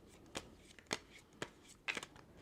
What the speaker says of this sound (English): All right, that's it for shuffling.